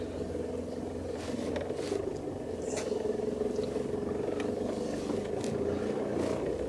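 A used 4x4 engine idles steadily in low range with the center diff locked, giving a continuous low rumble with a faint drone and no voices.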